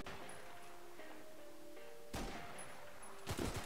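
SVD sniper rifle shots in a zombie survival video game, heard as two sharp loud broadband bursts a second apart near the end, over a steady engine-like hum.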